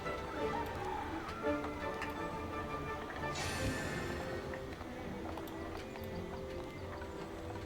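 Rhythmic clip-clop of donkey hooves on a ride in Albion Online, a steady, fairly quiet trotting beat over soft ambient background.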